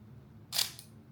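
A single quiet mechanical click of an Olympus OM2n 35mm film camera shutter firing, brief and crisp against a faint background hush.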